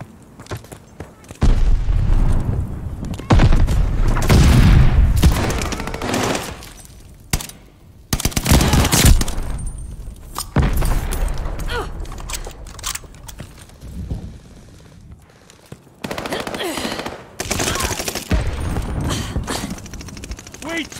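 Call of Duty Vanguard firefight on Xbox Series S: heavy gunfire with booming grenade blasts and rattling automatic bursts, loud and dense, broken by short pauses, with game voices in between.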